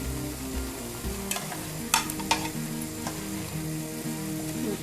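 Two cloves of garlic and two cut chilies sizzle in hot oil in a frying pan for a Chinese restaurant-style mixed vegetable dish, with a steady close crackle and a few sharp scrapes and clinks of a stirring spoon.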